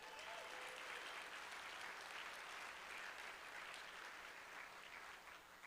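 Steady audience applause at a Colorado opioid abatement conference keynote, a broad wash of many hands clapping evenly throughout, heard from a distance and fairly quiet.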